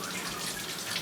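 Tap water runs in a steady, soft, continuous stream for hand washing in a home kitchen during pizza making, brief and fairly quiet.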